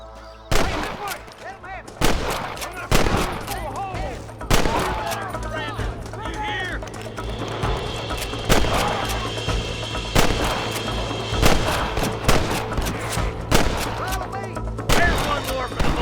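Gunfire rings out in a Red Dead Redemption shootout: loud, sharp shots come repeatedly and irregularly over a steady background, with some quick bursts close together.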